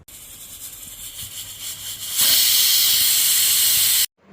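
A pressure cooker with sweet potatoes hisses steadily, then bursts into a loud, harsh full release of steam for about two seconds before cutting off abruptly.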